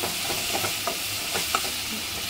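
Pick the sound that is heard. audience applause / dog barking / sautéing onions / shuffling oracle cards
sautéing onions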